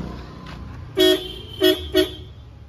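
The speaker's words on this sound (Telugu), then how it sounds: "హారన్లు అయితే ఫిట్ చేసేసిన" Newly wired car horns give three loud honks at close range, a longer blast followed by two shorter ones, over a low steady background hum.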